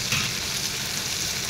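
Salt, turmeric and chilli powder fry in hot oil for an Assamese bitter gourd and fish curry, a loud unbroken sizzle with soft stirring underneath.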